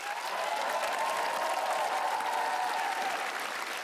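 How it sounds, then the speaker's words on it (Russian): A TV studio audience on an improv comedy show breaks into warm applause for a celebrity guest, an even, dense roar of clapping with some crowd cheering that stays full and close for the whole stretch. "Ей и аплодисменты."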